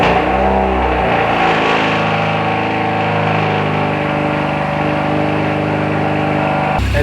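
A Kia Forte Koup engine, just patched with epoxy on its exhaust, idles loudly with a deep droning exhaust note that shifts in pitch as it revs, steady and close throughout.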